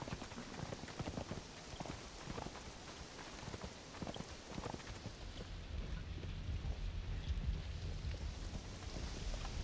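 A horse's hooves clip-clop in the survival video game Conan Exiles, with a steady stream of muffled footfalls over a rumbling, rain-like ambient background and no one talking.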